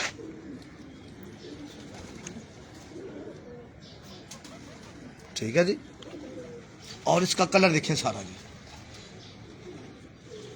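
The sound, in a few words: pigeons cooing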